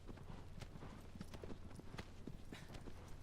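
Horse hooves gallop in a steady, rapid clip-clop rhythm while riding across the land in the video game Shadow of the Colossus, layered over a constant low rumble of game ambience.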